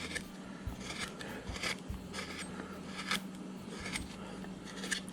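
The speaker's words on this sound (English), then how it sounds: "And we're just gouging at this thing here." A Drake number 11 gouge, about half an inch, cuts into a carved wooden witch figure, giving a run of short, close scraping and shaving strokes at an irregular pace over a low steady hum.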